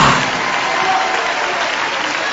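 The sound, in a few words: congregation applauding at a church service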